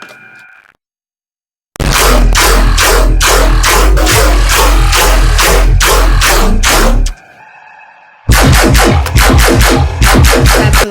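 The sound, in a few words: bass line with layers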